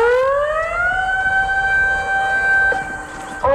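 A loud civil defense tsunami warning siren sounds during a night evacuation drill in Nachikatsuura, Wakayama, Japan, with a steady wailing tone that rises and holds, close and unbroken, with no talk over it.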